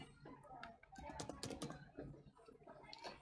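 Someone types on a computer keyboard while working in Eclipse, a quick quiet flurry of clicking keystrokes with no talking.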